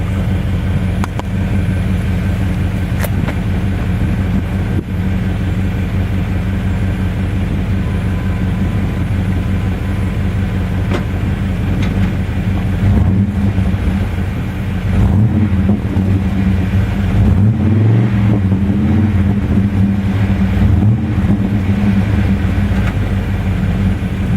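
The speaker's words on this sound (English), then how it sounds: "I'll just put it back here by the exhaust so you can hear what it sounds like" A K1500 pickup truck's exhaust rumbles steadily at idle, heard up close, a low continuous drone that swells slightly and turns rougher partway through.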